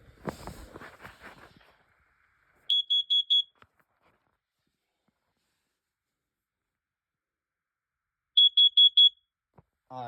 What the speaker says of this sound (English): Our first thing we should do is test our new carbon monoxide.